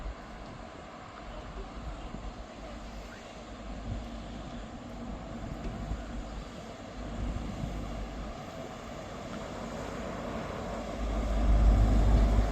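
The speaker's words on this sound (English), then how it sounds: "Arriving in now is the 1439 Scotrail service from Glasgow Queen Street to Aberdeen." A ScotRail service from Glasgow Queen Street to Aberdeen arrives at Montrose station, its engine drone rumbling steadily throughout and swelling louder and deeper near the end as it approaches.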